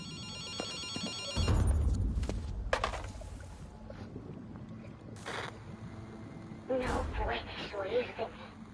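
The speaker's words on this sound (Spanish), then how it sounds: "Espera, contesto yo al teléfono," Telephone ringing in the video game Ghostwire Tokyo, a repeated electronic ring heard mid-distance under game ambience and low rumbling effects, with bursts of other game sounds around it.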